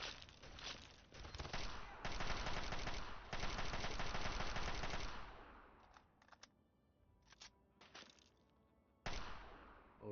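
Rapid bursts of automatic gunfire in Fallout 3, set at Rivet City, loud dense volleys for the first five seconds, then sparser scattered shots and a final burst near the end.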